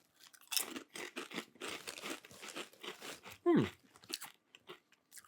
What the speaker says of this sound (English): This is like the Ruffles, the double crunch.